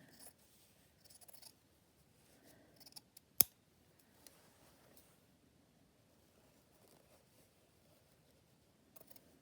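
Scissors make a few faint, scattered snips close by in a quiet room, with one sharp click near the middle.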